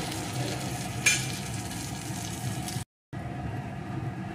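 Steady soft sizzling of bread frying in a pan, continuous and close, with a brief dropout near the end.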